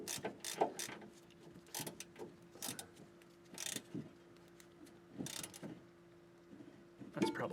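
Wrench tightening the oil drain plug on an older Craftsman mower, giving faint intermittent ratcheting clicks and metal scrapes in short bursts with quiet gaps between.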